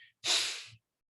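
Ujjayi-style yogic breathing made by constricting the epiglottis: a single forceful, raspy exhale lasting about half a second, close and loud, alone in near silence.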